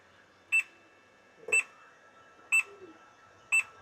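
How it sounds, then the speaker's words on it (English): Four short electronic beeps from electronics repair equipment, evenly spaced about a second apart, sharp and high-pitched over a quiet background hum. "Ignore that beeping"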